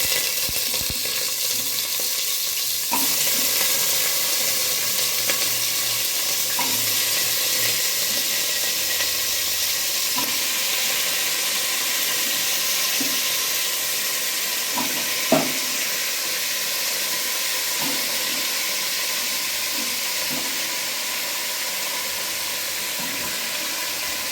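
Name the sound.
pumpkin added to hot tempering spices, sizzling in oil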